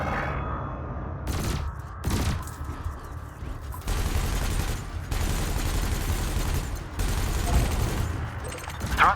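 Ship cannons in the space game Elite Dangerous fire at cargo canisters in repeated short bursts, sharp blasts over a steady engine hum, fairly quiet overall.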